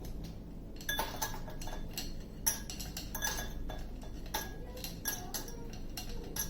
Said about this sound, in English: Before putting the juice into the glass, I'm going to put some ice cubes in it.